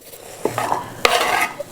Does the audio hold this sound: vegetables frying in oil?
yes